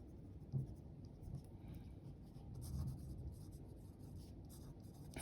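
Chalk or marker scratching out an equation on a board during a thermal physics lecture, a steady soft scraping and tapping with slightly louder strokes, close and alone with no talk.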